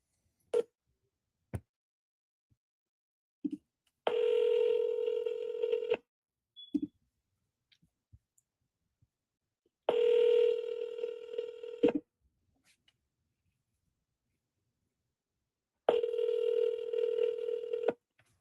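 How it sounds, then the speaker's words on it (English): Telephone keypad tones while placing sales calls: a few isolated single beeps, then three long bursts of rapid dialing tones separated by silence, fairly faint and close. "let's make a few more dials here"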